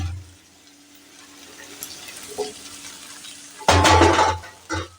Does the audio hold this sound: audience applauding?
no